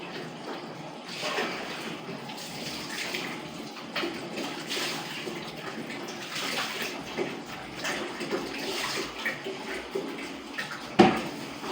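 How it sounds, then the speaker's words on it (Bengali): Hands washed under running water from a tap, a continuous splashing rush with uneven surges as the hands move through the stream, and a brief clink near the end. "হাতটা একটু ভালো করে ধুয়ে নিচ্ছে"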